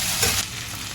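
Chopped okra pieces fry in a pan with a brief, close, dense hiss of sizzling oil.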